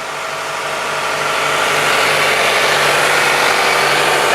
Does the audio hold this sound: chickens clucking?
no